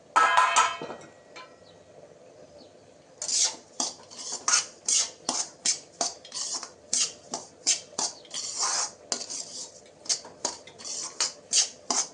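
Roasted coarse grain flour is scraped from a pan into a metal pot with a spoon, a long run of sharp, regular metallic clinks and scrapes, loud and close, with no talk.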